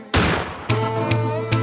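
Gunshot effects punctuate a dancehall music track: a sharp loud blast opens, followed by three more rhythmic cracks over a steady low bass tone.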